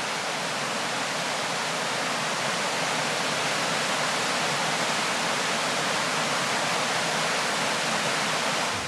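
Steady, dense roar of a large waterfall at Lushan, loud and unbroken for about nine seconds, with no voices or other sounds.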